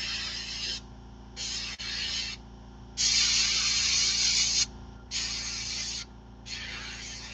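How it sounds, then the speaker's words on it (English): Airbrush spraying paint onto the arms of a bullfrog fishing lure, with short and longer bursts of hiss, about six in a row, separated by brief pauses over a steady background hum. "I was just spraying the arms on this one"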